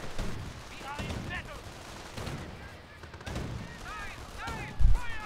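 Gunfire from an Ostwind anti-aircraft tank in a Company of Heroes–style strategy game: a clatter of rapid shots and a sharp heavy thump near the end, set against battle noise and faint voice chatter.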